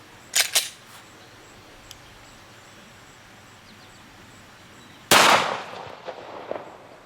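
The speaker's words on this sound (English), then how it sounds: "I'm gonna shoot the remaining bone that's standing up, hopefully" Pistol shots from a G2 Research RIP ammunition test on bone targets, with a pair of sharp cracks early on, then a louder, longer blast followed by echoing decay and small knocks, outdoors at close range.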